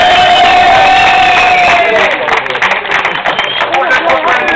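A crowd cheers and shouts at a Jawa motorcycle grand prix race in Bernolákovo, a loud burst of voices and applause under an announcer's amplified talk.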